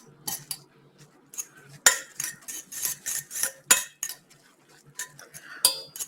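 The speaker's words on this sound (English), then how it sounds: "to the noodles I am adding the seasoning packet and stirring that in." A metal utensil stirs seasoning into ramen noodles in a cooking pot, giving repeated scraping clinks and clatters in uneven bursts, close and fairly loud with short pauses between strokes.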